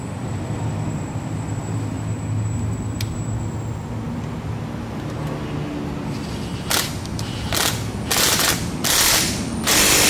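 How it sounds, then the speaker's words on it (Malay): A ratchet tightens the screw on a QJ Motor Fortress 350 motorcycle shock absorber, giving a few loud bursts of clicking in the latter half over a steady low background hum. "Okay, pasang skru atas."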